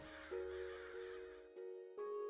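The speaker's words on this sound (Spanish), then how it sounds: "Creo que unos pájaros te atacaron." Crows caw in the video game The Darkside Detective, several harsh calls in a row, each cut off sharply, the last two standing alone against silence.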